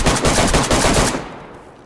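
Automatic gunfire in DayZ, a dense, loud, rapid burst lasting about a second before cutting off and fading into reverberant quiet.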